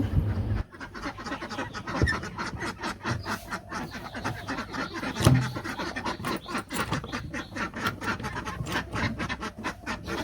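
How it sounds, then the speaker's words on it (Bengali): Ducks quacking repeatedly in a lively, overlapping chorus nearby as they are let out in the morning, with some scratching and rustling underneath. "এখন হাঁসগুলা বের করে নেই"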